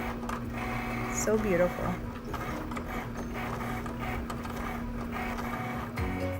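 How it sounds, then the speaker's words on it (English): A Cricut cutting machine whirs and clicks as it cuts out a word, a steady mechanical hum with brief ratcheting bursts, while someone speaks softly over it. "you're gonna hit the blinking button and you're gonna go ahead and cut your word"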